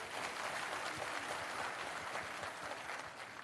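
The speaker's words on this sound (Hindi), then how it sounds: "एक बार अपने लिए जोरदार ताली बजाएं।" An audience at a political meeting claps loudly together, a dense continuous wash of applause lasting the whole stretch with no voices over it.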